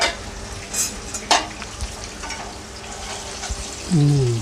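Chicken legs being stir-fried in a pan, with a steady sizzle, a few scraping and clinking utensil knocks, and a brief low tone near the end.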